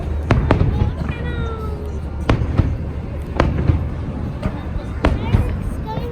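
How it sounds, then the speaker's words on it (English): Fireworks bursting over a Disney park during a fairy boat fireworks show, several sharp booming explosions spaced irregularly over crackling crowd noise, with people talking nearby. "Fireworks."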